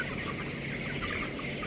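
Chickens and roosters cluck steadily in a poultry shed of cockerels around twenty days old, a dense overlapping chorus of close, continuous murmuring calls with no talking.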